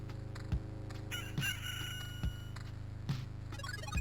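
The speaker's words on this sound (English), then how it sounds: "Rooster noises intensify." A rooster crows loudly in the pixel-art video game Loop Hero, its cock-a-doodle-doo and clucks standing out over a steady low game soundtrack with rhythmic thumps, no talking.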